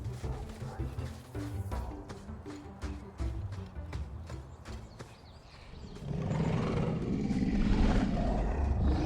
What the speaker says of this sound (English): Is that... wyverns mating?